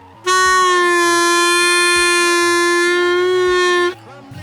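A harmonica one-hole draw note rings out loud and close, held steady for several seconds, then cuts off abruptly, with no voices over it.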